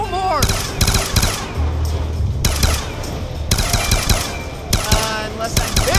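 Loud, close automatic gunfire in Black Ops 2 Zombies on the Buried map, bursts of rapid shots separated by brief pauses, with a character's voice speaking over the shooting.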